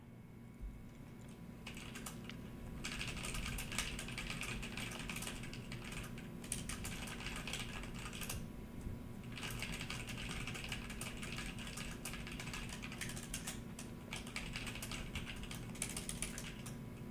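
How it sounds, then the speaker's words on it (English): Rapid typing on a computer keyboard, a steady dense clatter of keystrokes that runs almost unbroken for the whole stretch, with a couple of brief pauses and no voices. "Stop typing."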